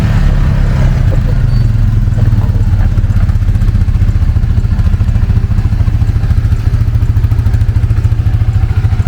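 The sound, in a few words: Suzuki Eiger 400 ATV engine running as it rides off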